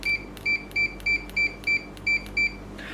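A Fluke 289 multimeter in continuity mode gives a string of short, evenly spaced high beeps, about nine clipped tones in quick succession, loud and close with no talk.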